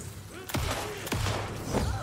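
Gunfire in the Alan Wake 2 video game comes as two or three sharp, heavy booming shots about half a second apart, loud and close over low game ambience and faint talk.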